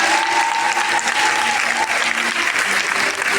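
A church congregation bursts into loud, sustained clapping and acclamation, a thick continuous roar of hands with a faint tonal hum beneath and no clear speech on top.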